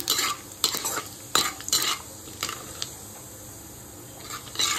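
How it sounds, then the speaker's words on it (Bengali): Bay leaf, cinnamon, green cardamom and whole cumin sizzling in hot oil while a spoon scrapes and stirs the pan in quick irregular strokes, close and clear against a faint steady hum. "এবার এই তেলে আমি একটা তেজপাতা, কিছুটা দারচিনি, ছোট এলাচ আর কিছুটা পরিমাণে গোটা জিরে ফোড়ন দিয়ে দিলাম"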